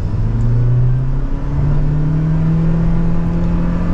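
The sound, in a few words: 2023 Toyota Prius Limited accelerating hard in sport mode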